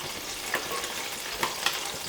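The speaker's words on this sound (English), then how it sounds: "I'm going to start with the onions." Onions sauté in a pan of olive oil and white wine over low to medium heat, giving a steady close sizzle with a few soft stirring clicks and no talking.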